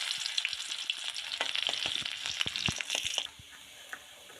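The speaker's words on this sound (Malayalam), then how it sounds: "കടുക് പൊട്ടി നമുക്ക് ഇതിലോട്ട് ഉള്ളി ഇട്ട് കൊടുക്കാം." Chopped onions go into hot oil with popped mustard seeds for a breadfruit curry, giving a loud close sizzle with crackling pops and stirring scrapes that drop abruptly to a faint hiss.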